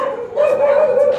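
Several neighborhood dogs bark and howl together at night outside a house in the Philippines, a steady wavering chorus that carries on without a break and sounds fairly distant.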